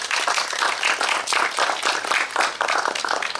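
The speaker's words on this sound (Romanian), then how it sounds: "Să-l aplaudăm!" An audience at a folk music workshop applauds a performer, steady dense clapping from many hands that carries on throughout with no one speaking.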